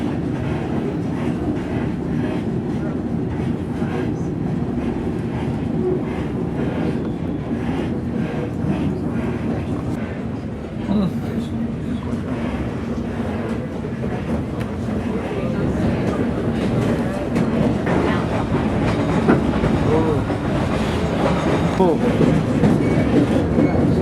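The White Pass & Yukon Route train runs on the rails from Skagway toward the summit, heard from aboard. There is a continuous rumble with rhythmic clickety-clack of the wheels, and people talk over it at times.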